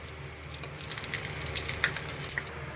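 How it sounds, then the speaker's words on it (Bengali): Dough bowls for bati chaat deep-frying in hot oil make a dense, close crackling sizzle with scattered sharp pops, steady for a few seconds. "এখন আমরা ডুবো তেলে ভেজে নিব।"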